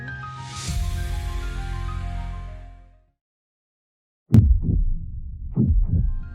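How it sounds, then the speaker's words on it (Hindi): An anime-style heartbeat effect slows down, with a sustained tonal swell fading out into silence, followed by a few deep, isolated thumps spaced far apart. "इसकी धड़कन तो धीमी होती जा रही है"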